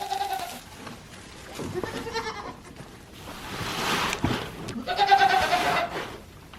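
Goats on a farm bleat repeatedly in short, wavering calls, some close and loud, others overlapping, with rustling and brief gaps between them and no talking.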